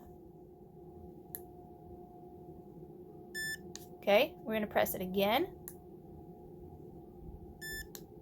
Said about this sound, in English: We're going to press and hold it. It might beep.